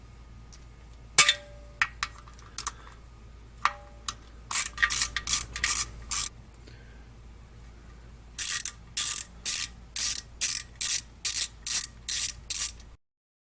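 Ratchet working bolts and nuts off a Jeep Wrangler underbody, close bursts of rapid metallic clicking in quick strokes, separated by pauses and a few clinks.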